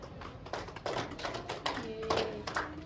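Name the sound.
classroom applause for a student named Rini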